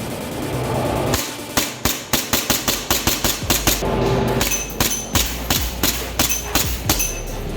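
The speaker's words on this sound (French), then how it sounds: "on va essayer leur nouveau pistolet GBB qui s'appelle le PTK" A PTK gas blowback airsoft pistol fires a long run of sharp, loud, evenly spaced shots, each a crisp crack with slide clatter, with a short pause partway through.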